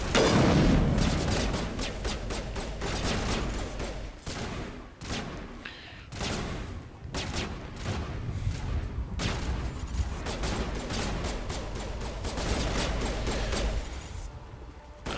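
Sustained gunfire barrage in the Mass Effect video game, a dense stream of rapid shots and booms running continuously and loudly throughout with little pause.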